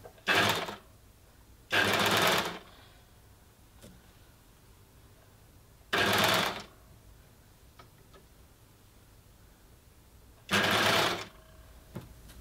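An overlocker stitches jersey fabric in four short, loud bursts of fast whirring, separated by pauses of quiet with faint clicks.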